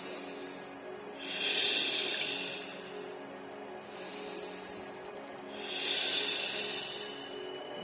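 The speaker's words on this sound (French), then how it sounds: "Une respiration circulaire comme une vague qui rentre dans votre ventre, dans votre poitrine et jusqu'à la tête." Deep rhythmic breathing in a Wim Hof–style exercise: two long, airy breaths swell close to the mic and fade, with no talking.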